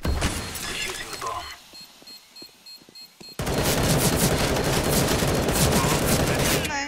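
Video game gunfire, sharp bursts and rapid volleys cracking out, fading into quieter scattered shots before a loud, dense stretch of sustained firing returns.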